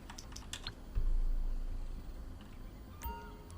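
Computer keyboard keys are pressed in a quick burst of clicks, then a firmer thump of the Enter key, followed by a few more scattered taps, all close up with no talking.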